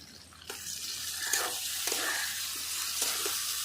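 Spice pastes of ginger, green chilli and garlic with chilli powder sizzle as they are sautéed in a pan for potato curry, with steady frying hiss and a few stirring scrapes, close and fairly loud.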